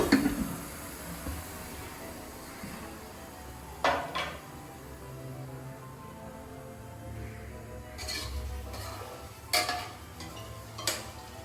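A spoon stirs egg masala in a pan for Hyderabadi egg dum biryani, giving quiet scraping and a few sharp metallic clinks of utensil against pan at irregular intervals over a low background.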